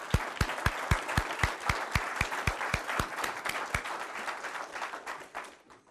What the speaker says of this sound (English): then we give them a round of applause